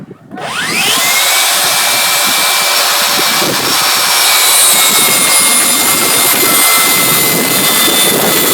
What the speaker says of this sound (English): Vacuum cleaner on.